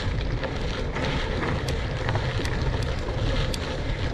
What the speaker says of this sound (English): Oh, this wind, yes!